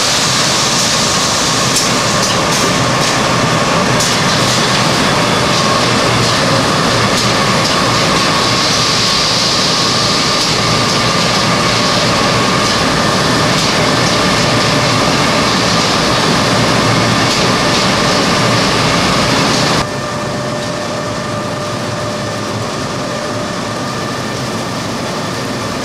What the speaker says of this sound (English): This part of the bagging line is actually making the bag.